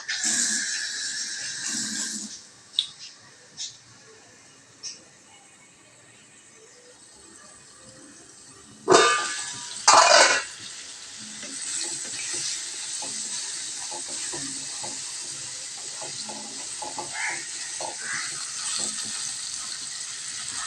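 Paneer fries in a covered kadai: a hiss and a few metallic clicks give way to a louder clatter of the lid or spatula, then a steady, close sizzle carries through to the end.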